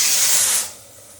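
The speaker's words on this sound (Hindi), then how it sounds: "पता नहीं ऐसे क्यों करता है ये कुकर, सारी जगह छींटे छींटे।" A pressure cooker cooking rice gives a loud, close jet of hissing steam with spitting spray that cuts off abruptly partway through, leaving a quiet kitchen.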